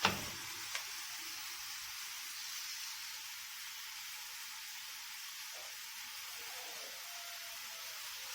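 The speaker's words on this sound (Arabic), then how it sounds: "كده هفضل اقلب في اللحمه لغايه ما تستوي معايا وتاخد اللون بتاعها" Minced meat sizzles and fries in a pan as it is stirred, a steady, faint hiss running throughout with a couple of small clinks near the start.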